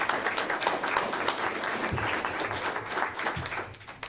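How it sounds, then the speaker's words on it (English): An audience at a 2021 meet-the-candidates forum applauds the candidates, a steady round of clapping from a modest crowd that fades slightly toward the end. "let's give them a round of applause because they've done a wonderful job"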